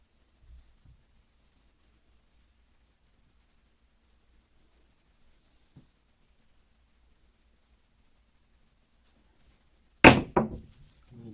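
Craps dice thrown onto a casino-style table landing with one small hop, a sharp clattering impact with a quick rebound after a long near-silent stretch with a couple of faint thuds.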